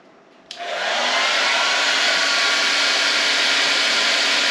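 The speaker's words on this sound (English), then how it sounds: "we'll go ahead and start the hair dryer up here" A hair dryer switches on after a brief quiet moment and settles into a loud, steady whoosh of blowing air with a constant motor hum, running on power from an EcoFlow battery station.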